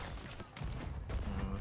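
Cannon fire booms in a pirate ship video game, a dense burst of heavy blasts layered over one another in a loud, continuous barrage.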